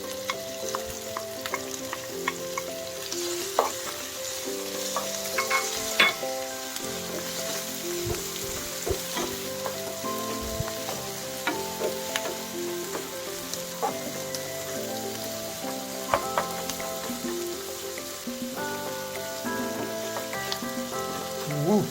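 Ngok-ngok meat frying in a pan, a constant crackling sizzle like rain with scattered pops and occasional stirring clinks, close and even throughout, no talking.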